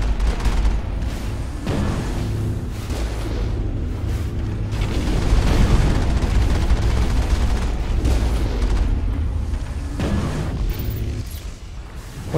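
Dense, continuous gunfire and booming blasts from a firefight against a turret in Mass Effect fill the scene, with rapid overlapping shots holding steady and loud throughout.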